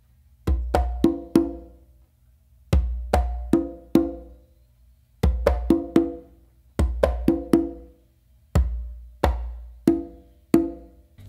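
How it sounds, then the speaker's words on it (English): Congas playing a pachanga pattern of bass, slap and open tones, crisp hand strikes in repeated groups of four or five with short pauses between phrases, close and dry. "you're going to do a bass and then a slap again in the middle of the conga"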